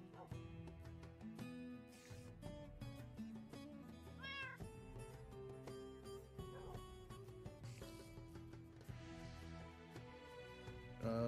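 Cat meowing for attention, repeated drawn-out mews over a steady bed of music and game sounds, fairly faint and continuous with no clear talk.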